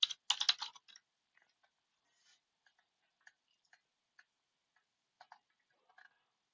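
Keys clack on a computer keyboard, a quick burst of taps followed by sparse, isolated clicks in a quiet room.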